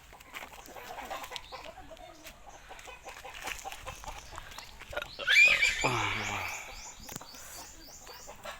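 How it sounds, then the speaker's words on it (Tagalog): Pig grunts and squeals at a farm in Quezon province, rising loudly in a burst around the middle among outdoor background noise, with chickens clucking nearby. "Ayan dyan ay baboy oh."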